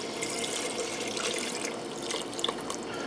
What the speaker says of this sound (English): Now I'm going to add in 4 cups of beef broth